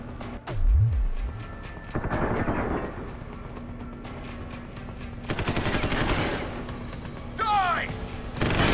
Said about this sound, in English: I need suppression fire.